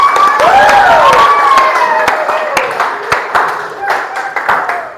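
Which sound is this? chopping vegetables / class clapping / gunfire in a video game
class clapping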